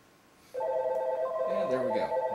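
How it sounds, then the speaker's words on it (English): VoIP phones starting to ring together, an electronic ringing that rises abruptly out of quiet room tone and layers into a warbling, overlapping chime, moderately close. "you should see all 3 phones start ringing"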